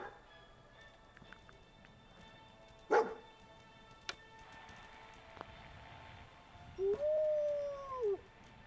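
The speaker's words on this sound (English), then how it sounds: "Stop that howling." Dog howling in the Fallout 4 video game, a single drawn-out rising and falling howl late on, preceded by a few sharp isolated sounds over a quiet ambient background.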